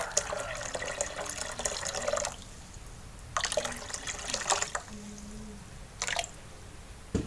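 Water poured into crepe batter, a large 3.5 kg mix, heard as close splashing, gurgling bursts separated by quiet pauses, the last one short.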